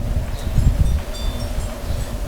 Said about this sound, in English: And we've got some wind.